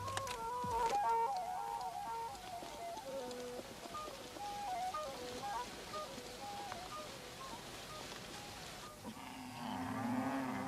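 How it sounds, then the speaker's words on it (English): Cattle on the broad plains of Hausaland around Kano low in drawn-out moos, with a rain-like hiss beneath them and a fresh low call rising near the end. "Cattle have been the other great agricultural resource on these broad plains."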